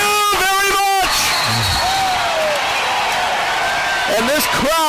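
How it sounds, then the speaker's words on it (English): A basketball arena crowd roars after a dunk in a men's college game, a loud sustained wash of cheering that swells and holds, with a commentator's voice talking briefly at the start and end. "And this crowd is going insane."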